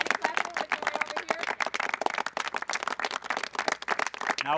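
A crowd clapping on a film set during a behind-the-scenes shoot, fast sharp claps packed into an uneven, lively rhythm, fairly close and sustained throughout.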